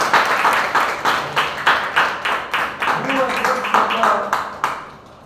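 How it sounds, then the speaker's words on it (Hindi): Audience at a product training event for the granular Bhuastra Super, clapping loudly in a steady burst of rhythmic applause that fills the room, with voices rising briefly near the end. "इसके लिए जोरदार ताली होना चाहिए।"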